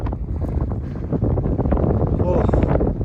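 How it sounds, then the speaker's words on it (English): Strong wind gusts across the Uinta Highline Trail high in the Uinta mountains, a steady loud roar buffeting the microphone throughout, with brief exclamations from a hiker mixed in. "Oh, it's windy."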